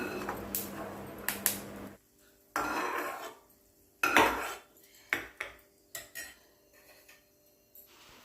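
Peanuts are stirred as they roast in a pan, a spoon clinking and scraping against the metal in short irregular bursts with brief quiet gaps between strokes.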